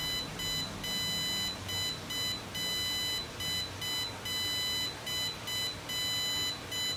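Temperature controller alarm beeping steadily, a rapid high-pitched electronic beep pattern repeating in regular bursts, fairly loud and alone with no talking.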